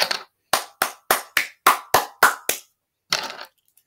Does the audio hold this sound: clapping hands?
yes